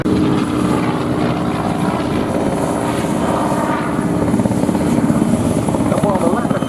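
A CAC Mustang Mark 21 propeller fighter flies past at an airshow, its engine roaring loud and continuous with a rough, throbbing drone. A commentator's voice runs over the noise.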